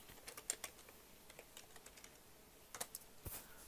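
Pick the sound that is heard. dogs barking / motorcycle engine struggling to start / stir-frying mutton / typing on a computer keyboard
typing on a computer keyboard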